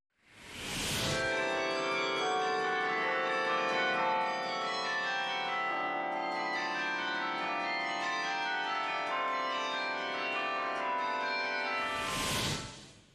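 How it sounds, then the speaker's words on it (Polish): A carillon concert rings out on tower bells in Poland, with many overlapping sustained bell tones sounding together, steady and fairly loud, from start to finish with no talking. "tradycja muzyki karillonowej, czyli grania koncertów na dzwonach wieżowych"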